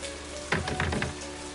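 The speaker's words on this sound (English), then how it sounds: "Raining quite heavily." Heavy rain in And Then There Were None, a steady hiss of falling rain with a brief cluster of sharper splashy taps, fairly faint and without talk.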